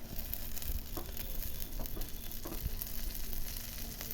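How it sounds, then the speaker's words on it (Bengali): Pizza set down on melted butter in a pan over a gas oven sizzles steadily, a close, continuous frying hiss with faint crackles and no talking. "বাটারটা কিন্তু মেল্ট হয়ে গেছে এবার আমি এর উপর দিয়ে বসিয়ে দিচ্ছি পিৎজা"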